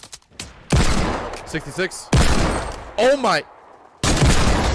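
Six Shooter revolver shots ring out in a Fortnite match, several sharp bursts spaced across the moment amid game effects and chaotic in-game sounds, with a player's excited voice calling out between the shots.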